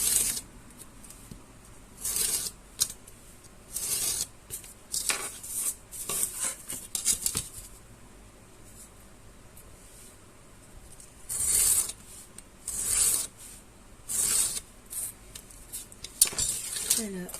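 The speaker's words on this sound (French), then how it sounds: "Donc là, on coupe." Paper from a photo album is cut while making a lamp, with crisp, bright snips and scraping strokes arriving in irregular bursts, separated by quiet gaps, close and alone without talking.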